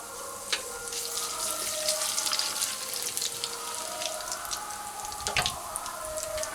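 Nigella seeds (black cumin) sizzle in hot oil in a home kitchen, giving a steady, close, bubbling crackle with scattered pops and no talking.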